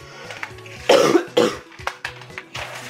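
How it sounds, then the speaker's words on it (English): Two sharp coughs close to the microphone, about half a second apart, followed by a few softer throat noises and quiet breathing. "Had a little cough there"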